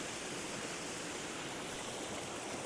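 Waterfall on a photography hike at Cross of Greet, heard as a steady, even rush of falling water with no breaks, fairly quiet and continuous, with no voices.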